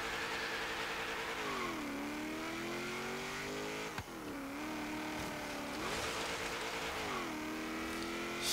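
A 1973 Ford XB Falcon GT muscle car in Forza Horizon 3 revs and accelerates steadily, its engine note rising through gear changes with brief dips between shifts, loud and close throughout.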